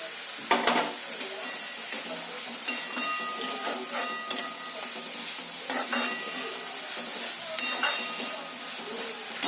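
Grated beetroot cooking with sugar sizzles steadily in a pan while a spoon stirs and scrapes, with occasional sharper clinks against the metal, close up and without talk.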